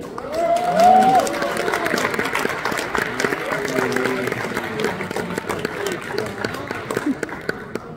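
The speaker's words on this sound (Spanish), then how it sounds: "Fuerte el aplauso" A cabaret audience at a show in Mexico claps for a dancer, a dense patter of applause from the crowd running under a voice on the microphone and other voices.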